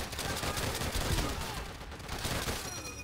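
Call of Duty: World at War battle gunfire: overlapping rifle and machine-gun shots in a continuous fusillade. The firing sounds fairly distant and stays steady throughout.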